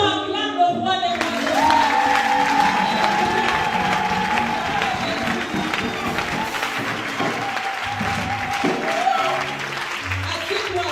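A church congregation applauds and cheers, with dense, sustained clapping and crowd noise filling the room and a voice carrying over the top.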